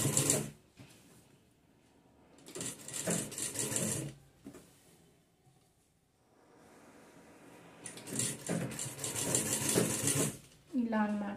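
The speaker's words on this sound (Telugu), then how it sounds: "ఒక్క స్టిచ్ ఇలా చూసుకుంటూ నిదానంగా స్టిచ్ వేసుకోవాలి మనం" A sewing machine stitches a dress slowly in uneven whirring runs, with a voice talking now and then between the stitching.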